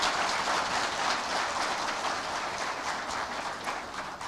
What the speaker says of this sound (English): I think Balozi deserves a better and more hearty clap